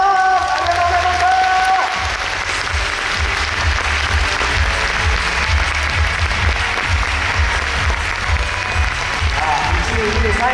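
A theater crowd applauds the performers at a university idol dance contest final, loud sustained clapping with rhythmic low thumps and music tones at the start and end, and a voice talking over parts of it.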